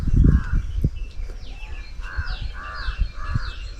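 An Asian koel calls from trees near an old stone fort, repeating several loud cries in a short series over faint outdoor background noise.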